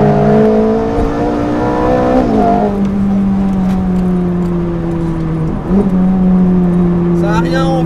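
A Ferrari 430 Scuderia engine revs hard at full throttle in second gear near 5000 rpm, a loud sustained roar with steady harmonic pitch rising and settling, heard close from inside the car with a voice talking over it.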